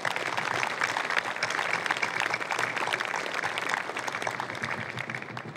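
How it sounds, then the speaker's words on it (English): Crowd applause at an outdoor military change-of-command ceremony for the 2nd Combat Aviation Brigade, a continuous, fairly distant wash of clapping that holds at an even level throughout. "Please give them a big round of applause."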